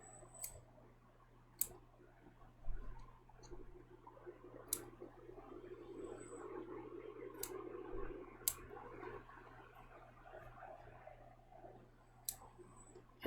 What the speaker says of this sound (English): I'm just going to trim my little threads where it started and stopped